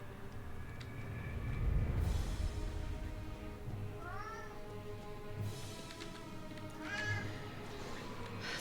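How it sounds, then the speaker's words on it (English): A house cat meows several times, short rising calls spread across steady low background noise from a game. "Sorry about the meowing, that's my cat."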